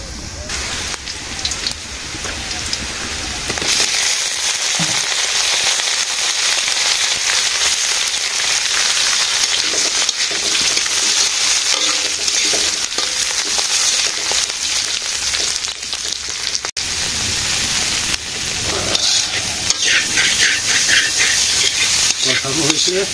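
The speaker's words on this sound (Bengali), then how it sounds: "পেঁয়াজ দিয়ে কাঁচামরিচ দিয়ে ভাজলাম।" Greens frying in a pan with onion and green chili give off a steady loud sizzling hiss that runs almost the whole time, close by, with brief stirring.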